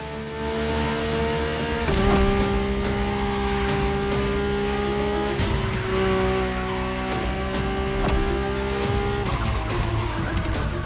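A Mercedes-AMG One hypercar driving in the racing game The Crew Motorfest, its engine droning loud and close with a steady pitch, broken by sharp gear shifts and brief tire noise.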